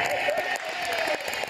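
Studio audience clapping on the Family 100 game show, a dense, continuous patter of many hands with a lively crowd murmur, moderately loud and close throughout.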